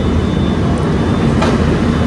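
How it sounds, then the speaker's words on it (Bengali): A Howrah to Puri train departing, a loud, steady, dense rumble and roar heard from on board, with a brief sharp clank near the middle. "তো আমাদের ট্রেনও রওনা দিল"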